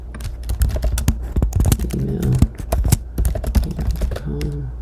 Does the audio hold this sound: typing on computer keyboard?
yes